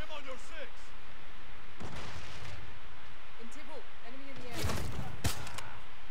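Gunfire in a shooter video game: several sharp cracks and heavier booming shots spread across the stretch, the loudest near the end, mixed with game effects and a voice talking over them.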